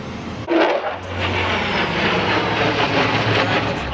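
A fixed-wing airplane flies past at an airshow, its engine a steady broadband roar with a low drone that swells after a brief thump and holds loud and continuous to the end.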